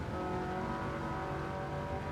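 A Ferrari 308 GTB races in Gran Turismo 7 on a wet track on intermediate tyres, its engine note loud and continuous with tire noise and no speech.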